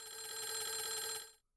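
An old bell-style telephone rings in the Clock Tower video game, one bright metallic burst of about a second that cuts off abruptly, clear and alone.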